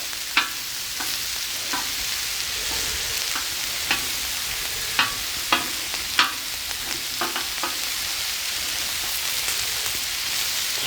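Shrimp frying on a Blackstone griddle, a steady loud sizzle with repeated sharp pops and spatter ticks scattered throughout, close and continuous, with no talking.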